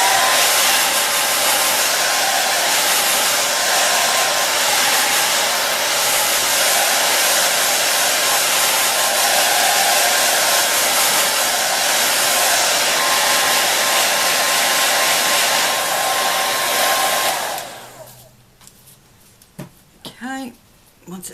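A heat gun drying paint on a birdhouse blows with a loud, steady whoosh for about seventeen seconds, then cuts off, leaving quiet with a few small sounds.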